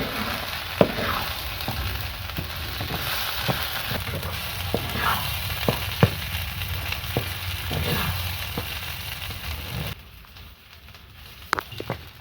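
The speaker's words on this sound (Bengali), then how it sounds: "এবার এতে লবণ পরিমাণ মতো, হলুদ দিয়ে এটা নেড়ে নেড়ে ভাজা ভাজা করে নিতে হবে।" Ghetkol leaves and stems fry with salt and turmeric in a pan, giving a soft, steady sizzle broken by regular clicks of stirring, then turning quieter near the end.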